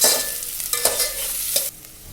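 Chopped onion dropped into hot oil in a home kitchen for egg biryani: a loud hiss that tapers, broken by scraping stirs of a spoon against the pan.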